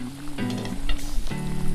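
Potatoes deep-fry in hot oil in a pan, giving a dense, steady crackling sizzle with brief bursts of bubbling, close and loud, with no voices.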